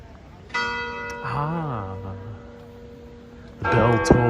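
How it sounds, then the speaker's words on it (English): A church bell near the Vatican rings with long sustained, humming tones that ring on and fade, then strikes again; a voice speaks briefly over the ringing. "The bell tolls."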